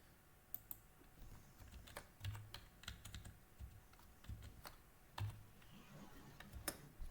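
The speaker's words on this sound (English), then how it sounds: "I didn't even see what I was typing" Quiet, close typing on a computer keyboard, irregular bursts of light key clicks and taps with small pauses between them, heard alone without talk.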